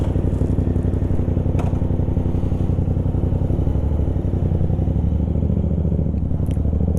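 A motorcycle engine idles steadily and loudly close by, a continuous throbbing rumble with faint clatter, no talking over it.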